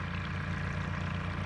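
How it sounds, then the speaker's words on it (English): Water drains from a muddy pool at an excavated field roadworks site, a steady low gurgling flow that stays quiet and even throughout the brief moment. "nasty pool of water being drained"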